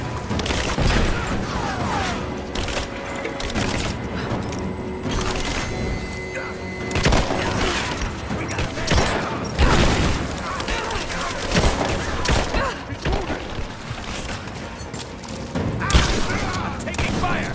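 Sustained gunfire rattles through a combat firefight in Rise of the Tomb Raider, with dense overlapping shots and occasional booms running throughout, mixed with shouted voices.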